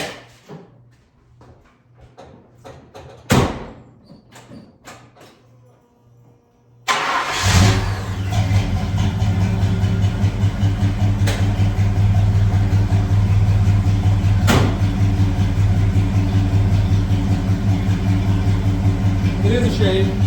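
Ford Ranger with Flowmaster 10 true dual exhaust from the headers back: after a few quiet clicks and a thud, the engine cranks, fires loudly and settles into a steady, rumbling idle close by.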